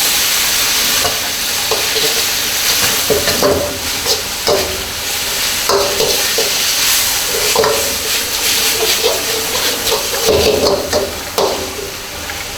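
Beef with black pepper stir-fries in a hot pan, a constant loud sizzle broken by repeated scraping stirs and bursts of hissing steam over several seconds, with no talking.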